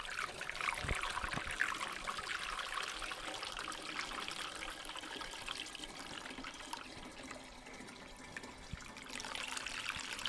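Juice poured into cider must, 1.5 gallons of it going in as a steady, continuous liquid splashing and gurgling with no voices.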